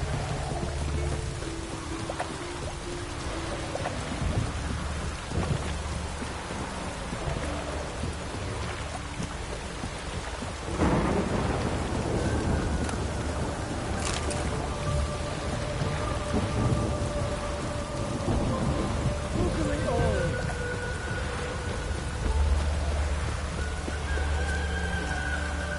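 Steady rain pours alongside rolling thunder during a thunderstorm in the video game The Witcher 3, with a loud crack near the middle and continuous downpour, heard alone without talk.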